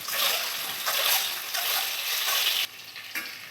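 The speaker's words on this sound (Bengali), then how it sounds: "কড়াইতে তেল দিয়ে দিয়েছি, দিয়ে দেব 1 চামচ হলুদ গুঁড়ো, দিয়ে আমি ডিমগুলোকে লাল লাল করে কষিয়ে নেব একটু।" Boiled eggs frying in hot oil with turmeric powder in a wok, a loud, bright sizzle with bursts of spattering and stirring, close up and steady with no voice over it.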